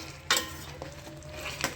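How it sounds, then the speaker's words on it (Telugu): Green chillies and brinjal frying in a pan, a soft continuous sizzle with two brief stirring scrapes, close and faint. "ఇలా ఇది బాగా మగ్గేదాకా అలాగే ఫ్రై చేసుకోవాలి"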